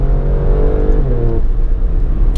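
An Alfa Romeo Stelvio Quadrifoglio sports SUV with a 510 hp engine drives and brakes hard, its loud engine note dropping in pitch as it slows, with road rumble throughout and no talking.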